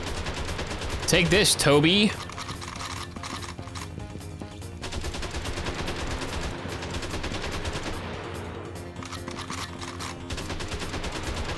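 Rapid automatic AK rifle fire in the Jack Styler video game runs continuously throughout, loud and dense, with a louder burst early on and a voice talking briefly over it.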